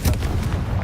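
A Confringo fire spell blasting in Hogwarts Legacy, a heavy booming explosion with a deep low rumble and a sharp crack at the start, loud and close, alone without talk.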